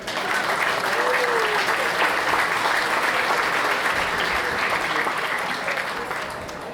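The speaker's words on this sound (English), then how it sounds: "please give a big round of applause for our founder, our executive director, Joseph Acapinti." A dinner crowd at an annual awards event applauds for its founder and executive director, with sustained, even clapping filling the room, fairly loud and continuous with a slight fade at the end.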